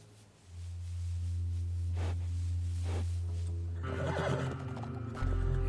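A horse in Red Dead Redemption II gives a loud whinny over the steady clip-clop of hooves and a low sustained hum, heard alone and up close.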